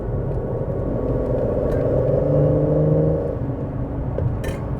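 A car accelerating on the road, heard from inside the cabin as a steady low engine rumble and road drone that rises in pitch and swells slightly through the middle before easing, continuous and close, with no talking.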